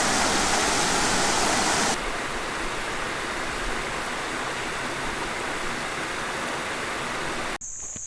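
Fresh water flows steadily on the Current River along the Ozark Trail, a continuous close rushing hiss that drops slightly in level partway through and cuts briefly near the end.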